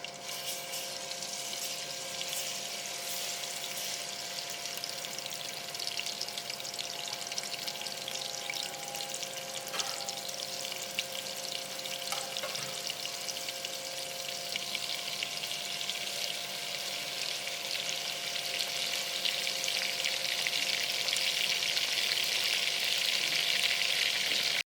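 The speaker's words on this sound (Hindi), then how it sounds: "इसके अंदर हम एक खाने का चमचा अदरक लहसुन का पेस्ट शामिल" Ginger garlic paste frying in hot oil in a pan while making Lahori chana, giving a steady, close sizzle that runs without a break and with no talking.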